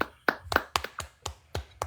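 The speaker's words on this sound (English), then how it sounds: "Clap it up." A few people clap hands in a quick, uneven rhythm, about nine sharp close claps in under two seconds, bright and alone without talk.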